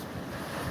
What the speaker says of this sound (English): Just for waves in the darkness, you know.